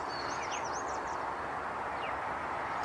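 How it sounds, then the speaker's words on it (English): An oriole sings outdoors, a short run of whistled, warbling notes heard at a moderate distance over steady wind or rustling background noise, with a fainter call a moment later. "Sounds like an Oriole, but I may be wrong."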